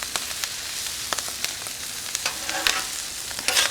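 Potatoes and pastrami hash sizzle on a hot Cuisinart 360XL flat top griddle, a constant close crackling hiss dotted with quick spatter pops and occasional scrapes.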